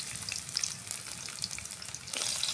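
Chopped garlic sizzles in hot oil in a wok, a crackling fry with scattered pops that swells louder near the end.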